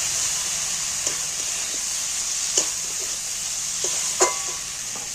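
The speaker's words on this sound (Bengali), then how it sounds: "এবার ডাল আর মশলা একসাথে কষিয়ে নিচ্ছি" Washed red lentils and spices sautéing in a pan, with a continuous steady sizzle and a few soft scrapes and taps from stirring, close and moderately loud.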